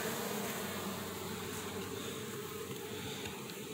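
Honeybees flying in and out of a hive entrance while bringing in orange pollen make a steady, dense, faint buzzing hum throughout, with no talking.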